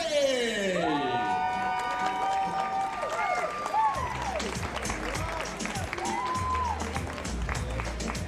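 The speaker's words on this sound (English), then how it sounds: "Let's everyone cheer Sawyer Sullivan from the USA!" A crowd at a compound men's bronze archery match in Santiago cheers for an American archer, with rising whoops and shouts swelling into sustained cheering, clapping and calls, while an announcer speaks over the noise.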